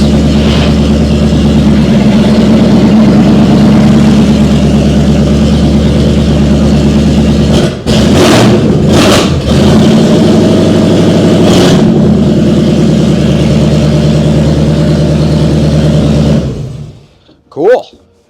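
The engine of a 1950 Fargo truck runs loud and close in reverse gear, a steady low rumble with brief bursts of noise partway through before it cuts off near the end, while a person talks.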